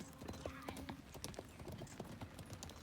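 Horses' hooves clip-clop in quick irregular beats as riders warm up for kok boru, the Kyrgyz goat-carcass game played on horseback, with voices talking over the hoof sounds.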